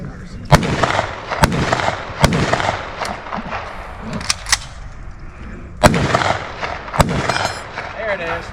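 Sharp, loud rifle shots from an M1 Garand crack out one at a time at irregular intervals during an outdoor weapons demonstration, with people talking in the background between shots.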